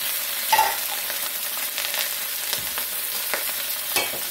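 Lo mein noodles sautéing with roast pork and shrimp, seasoned with garlic powder and pepper, give a loud, close, continuous sizzle broken by occasional stirring scrapes, with no voices.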